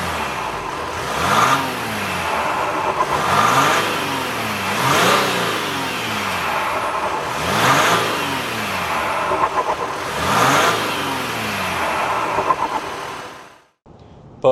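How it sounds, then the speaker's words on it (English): A Ram 1500 EcoDiesel Limited pickup's diesel engine revving up under hard throttle, rising and falling in four repeated surges, steady and close, then cutting off abruptly at the end. "It's only when you really put your foot down do you start to hear that diesel engine."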